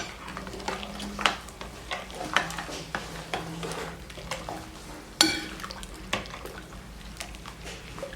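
Basil sherbet being stirred in a pot, with soft scraping and liquid swishing, irregular utensil knocks and one sharper clink against the metal, moderately close with no talk.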